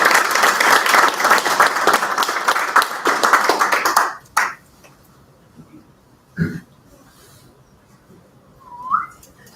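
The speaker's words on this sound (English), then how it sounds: "let's get a round of applause for" A burst of audience applause for about four seconds that stops abruptly, followed by a quiet room with a cough and a few scattered sounds.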